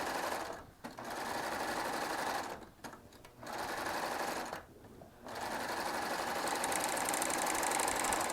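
A Baby Lock Triumph serger fitted with a ruffling foot stitches in loud, steady mechanical runs, stopping briefly three times before starting again, with the fast rattle close by.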